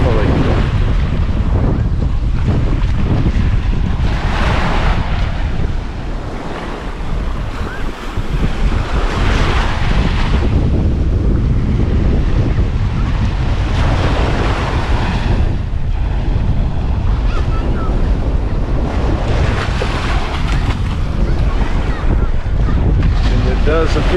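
Wind-driven ocean surf rolls onto the sand at Mexico Beach, Florida, a steady loud wash of breaking waves with heavy wind buffeting the microphone, a brief lull midway, and no voices.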